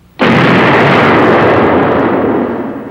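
A claymation cartoon explosion goes off suddenly as one loud, close, booming blast, and its roaring rumble holds for a couple of seconds before slowly fading.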